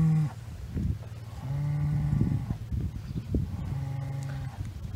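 Cattle on a Wisconsin beef farm moo several times in succession, long low calls spaced by short gaps, fairly close and clear over quiet outdoor background.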